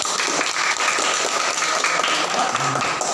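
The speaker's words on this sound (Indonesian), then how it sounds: "Tepuk tangan untuk mereka." A classroom of students gives a steady round of clapping for classmates, dense and continuous, close and moderately loud from start to end.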